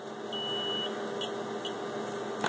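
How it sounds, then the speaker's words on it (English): Continuous steady electronic beep from a cheap Harbor Freight multimeter in continuity mode with its leads touching, a loud sustained tone held without a break and with no voices. "I've got it set in continuity testing mode so that when the two leads touch,"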